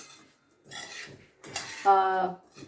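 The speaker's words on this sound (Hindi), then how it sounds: "अब इसको हम ऐड कर लेते, मिक्स कर लेंगे और हिला लेंगे" A spoon scrapes and clinks against a pot while gooseberry pickle cubes are stirred and mixed, with short bursts of scraping and a bright metallic ring near the end.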